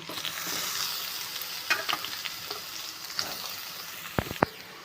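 A steady soft sizzle of chopped onions frying in oil, with a few scraping stirs and clinks near the end.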